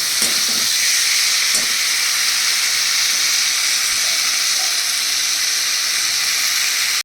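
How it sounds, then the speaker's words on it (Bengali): Water poured into a hot pan with fried chillies hisses and sizzles loudly and steadily throughout, a dense close bubbling roar with a few faint clinks underneath. "এবার আমি দিয়ে দিচ্ছি এর মধ্যে জল।"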